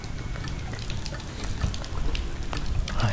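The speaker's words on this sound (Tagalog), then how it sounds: "Kaso biglang bumuhos yung ulan." Sudden heavy rain pours down in a steady, dense hiss of drops with occasional louder splatters, continuous throughout.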